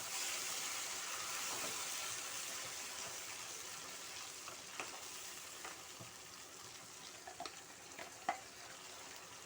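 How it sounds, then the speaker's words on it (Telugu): Blended tomato and onion gravy for an egg and drumstick curry sizzles quietly in a pan, a soft steady crackle with occasional small pops and spatters and no talking. "ఈ గ్రేవీ కూడా వేసేస్తున్నాను."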